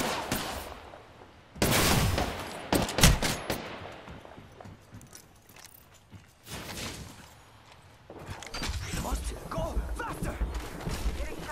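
Gunfire in a shooter video game: loud close bursts of rapid shots crack out, then fade into a busier stretch of scattered fire and background action.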